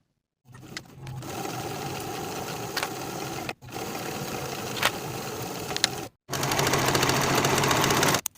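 A sewing machine stitches a jacket seam at a 3/8 inch allowance in three loud, even runs of rapid mechanical whirring, with brief stops between them.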